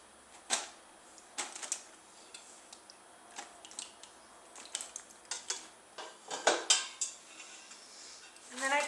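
Farmer cheese curds are scooped into coffee filters, giving a series of soft, irregular clicks, taps and spoon-against-container knocks close by at a quiet level, with faint kitchen handling noise between them.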